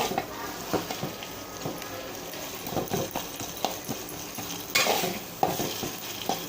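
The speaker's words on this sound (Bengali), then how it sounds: "আমাকে এটা নাড়া দিতে হবে যেন লেগে না যায় পুড়ে না যায়" Taro stolon with dried Bombay duck fish and chopped garlic fries in oil as a spoon stirs and scrapes the pan, with a constant sizzle and frequent clinking, clattering strokes close by.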